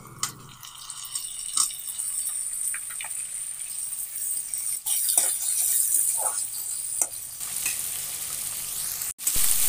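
Chopped tomatoes sizzle steadily in a hot pan for an Odia taro and dried fish curry, with scattered scrapes and rattles from stirring over the continuous frying hiss.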